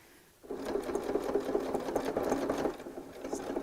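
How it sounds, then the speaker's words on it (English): A sewing machine runs slowly at a long stitch setting, sewing through a scrappy patchwork bag, its steady close mechanical whir starting after a brief quiet moment and continuing without talk. "So just respect your sewing machine a little bit in that way, and just take it slowly."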